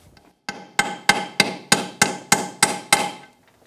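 A socket taps a seal into place during a gear reduction kit install on a Yamaha YXZ1000R. Nine sharp, evenly spaced metallic knocks ring out close by in a quiet workspace.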